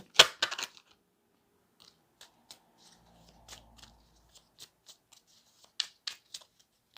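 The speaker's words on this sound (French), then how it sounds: "vous tirer une carte oracle qui servira de carte conseil" Oracle cards being shuffled and drawn by hand, with brief papery riffles and a few soft flicks and taps spaced out, close and quiet, no talking.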